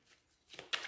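Oracle cards being shuffled and drawn, a faint soft rustle that swells into a quick, crisp riffle of cards near the end.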